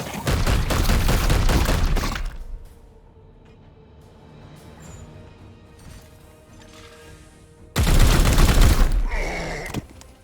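Heavy gunfire from Warhammer 40k: Chaos Gate Daemonhunters, with a loud two-second burst of rapid shots opening, a lull of low rumbling and faint ambience, then another powerful, crashing volley near the end.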